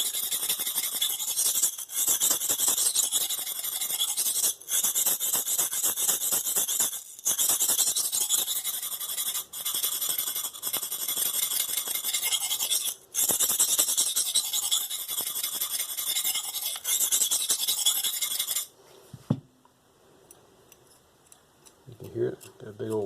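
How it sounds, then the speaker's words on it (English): Knife blade drawn across a cheap sharpening stone, working up a burr on one side and then the other, a steady loud raspy scraping in repeated strokes that stops near the end, followed by a brief quieter bit. "Get a burr worked up. flip over, work on the other side a little bit."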